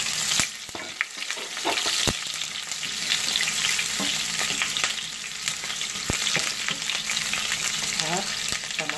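Garlic and onion frying in a pan, a strong steady sizzle broken by sharp spatula knocks and scraping strokes, close and loud throughout.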